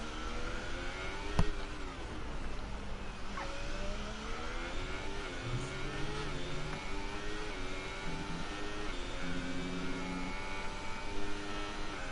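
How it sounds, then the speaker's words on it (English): Formula 1 racing cars in a video game, engines whining and revving steadily through the whole stretch as several cars pass close on a British Grand Prix circuit, with no talk over the sound. "Soft tyre runners, and JTX goes wide there."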